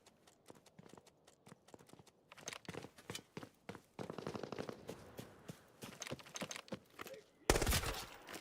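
A burst-fire gun in the shooter game Arena Breakout Infinite fires sharp shots in quick clusters, starting faint and sparse, then growing denser and louder, ending in a harsh, loud blast.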